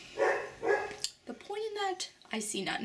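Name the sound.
dog barking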